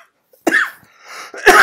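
A person clears their throat with a short, sharp rasp, pauses briefly, then makes a second louder throat-clearing burst, close to the microphone and with no talking.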